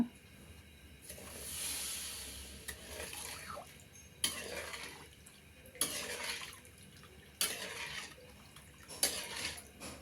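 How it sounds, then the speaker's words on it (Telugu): Beetroot halwa syrup is stirred in a pan on the stove, with repeated bursts of spoon scraping and sloshing every couple of seconds over a quiet background. "మధ్య మధ్యలో కలుపుతూ ఉన్నాను"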